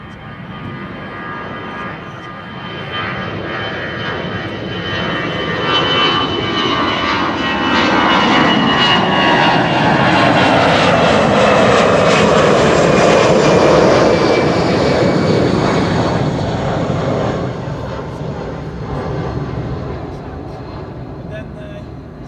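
Jet airliner departing runway 24, the Kaagbaan, at Amsterdam Schiphol: a loud engine roar that swells and peaks mid-pass with a descending tonal whine, then fades. People talk in the background.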